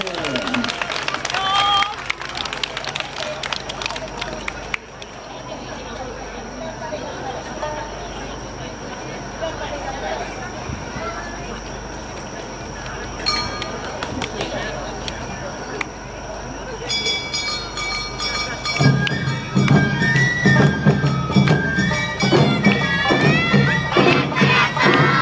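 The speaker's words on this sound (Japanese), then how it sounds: "皆さん大きな拍手をお迎えください" A crowd claps and cheers at the station-front stage of the 23rd Inagi Awa Odori festival in 2024, a dense outdoor wash of applause with an announcer talking over it. Lively festival music joins near the end.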